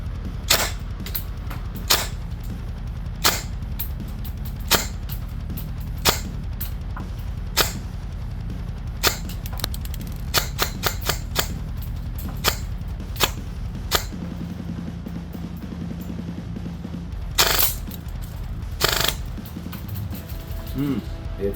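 Arcturus AK-12 airsoft rifle firing 0.2 gram BBs, a series of sharp, loud, evenly spaced single shots over about twenty seconds, with a few tight bursts near the end, each crack clean against a steady low background hum.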